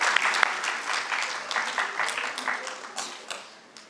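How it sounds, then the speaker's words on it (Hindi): Audience applause welcoming guests to a school stage event: brisk, dense clapping with a few sharper individual claps, fading toward the end. "जोरदार तालियों से स्वागत करें।"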